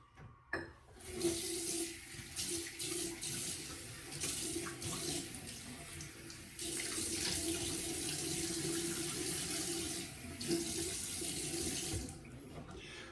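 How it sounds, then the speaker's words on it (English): Water runs from a bathroom sink tap in a home, with splashing as cold water is thrown onto a face; a steady faint stream is broken by irregular splashes over about thirteen seconds. "step to the side to my wife's sink over here and splash some cold water on my face"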